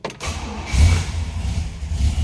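A 1965 Pontiac GTO cranks briefly and catches, then settles into a loud, rumbling idle with steady low-end throb close by. Nobody speaks.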